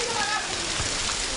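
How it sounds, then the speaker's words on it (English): Heavy downpour in Cuba, a dense steady hiss of rain on surfaces with scattered drips, loud and continuous. "Our guide Felipe and our producer Michelle watch as the rain keeps coming."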